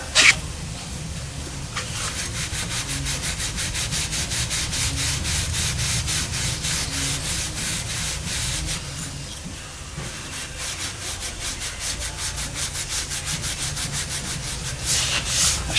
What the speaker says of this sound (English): It's my Scotch-Brite pad.